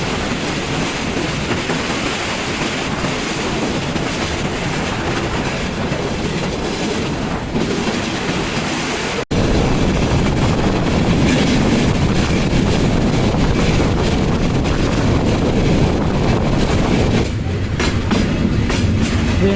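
The Parabat Express train runs along the rails with a loud, continuous rushing roar and dense rattling clatter, wind buffeting the microphone; the noise jumps louder partway through and stays steady, with no voices.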